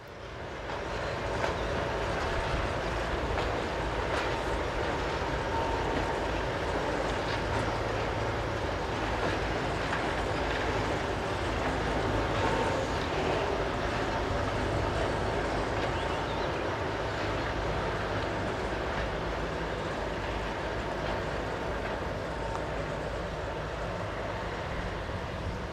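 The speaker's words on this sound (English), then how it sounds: "Seen reversing a set of empties into the quarry sidings is ST44 1240 on the 15th of May" ST44 diesel locomotive number 1240 reversing a rake of empty stone wagons into quarry sidings near a gravel pit, a steady heavy engine rumble with rolling wagon noise that holds constant throughout at moderate distance, no talking.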